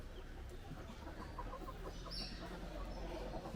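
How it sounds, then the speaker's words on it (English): A black rooster clucks faintly outdoors in Kingston, Jamaica, a few soft short calls over a steady hum of background noise, distant rather than close. "First, me see a black rooster."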